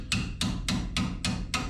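A claw hammer strikes metal during brake service on a small mini truck, giving six sharp, evenly spaced blows about a third of a second apart, each ringing briefly over a steady low background hum.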